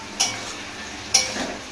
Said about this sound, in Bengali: পেঁয়াজটা এখন ফ্রাই হচ্ছে